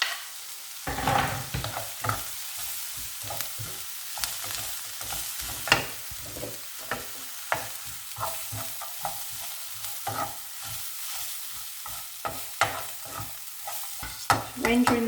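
Bacon and very finely mandolin-sliced cabbage frying and being stirred in a pan, a soft continuous sizzle broken by repeated scraping and clattering stirs at an uneven rhythm.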